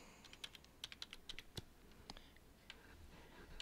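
Computer keyboard being typed on to enter a license ID number on a downloads page, a quiet series of irregular key clicks close by, alone with no voices.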